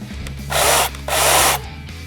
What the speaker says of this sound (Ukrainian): Для запуску пили розблокуйте гальмо ланцюга, відіжміть фіксатор і натисніть на важіль газу.